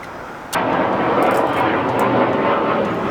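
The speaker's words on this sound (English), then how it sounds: "In my house and a plane goes over, you will hear it." An airplane passes over a house, a loud broad engine roar that swells in abruptly and holds steady for a few seconds, with no voices.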